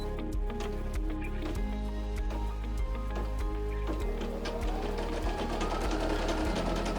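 Brother PE 900 embroidery machine stitching, a steady close rhythmic mechanical chatter with regular needle thumps, continuing throughout without talk.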